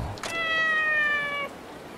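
A single drawn-out cat meow from the samurai-era game Like a Dragon: Ishin!, clear and close, lasting about a second with a faint soft noise just before it.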